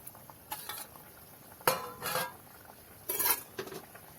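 Green mango and fish go into a simmering home-style Kerala fish curry pot, heard as a few separate soft plops and clatters with scraping of a utensil against the pot, fairly close and quiet over a faint sizzle.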